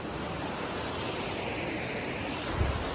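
A waterfall on a mountain hike, a continuous broadband roar of rushing water with no breaks and no voices, steady and fairly close.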